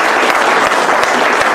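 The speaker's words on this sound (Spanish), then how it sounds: "Denle un aplauso al Señor, por favor." A church congregation claps loudly and continuously in a dense, even wash of applause, close and unbroken for the whole moment.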